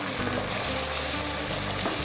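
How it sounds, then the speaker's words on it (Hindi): Ginger and tomato paste masala frying in a pan for dhaba-style chole, a dense steady sizzle under a low continuous hum, loud and close with no talking. "और मसाले को अच्छी तरीके के साथ भूनेंगे।"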